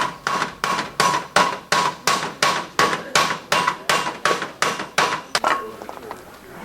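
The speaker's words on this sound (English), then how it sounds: "It will sound dull at first, and then you'll hear a nice ring when it starts to close tight." A hammer strikes a copper standing seam lock on a curved double-lock roof, about fifteen evenly spaced, ringing metallic blows at a steady rhythm, close and loud, then stopping.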